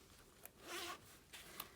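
A zipper on a planner's gusseted pocket is pulled open in a few short, quiet rasping strokes close by, with one longer zip in the middle.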